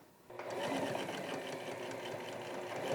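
A sewing machine starts up and runs in a fast, continuous mechanical whir as it stitches leftover fabric into a laundry bag, loud and close with no talking.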